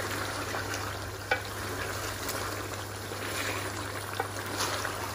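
Potatoes with ginger and green chillies fry in a pan with a soft, steady sizzle, a faint background hiss broken by a couple of light clicks of a spoon.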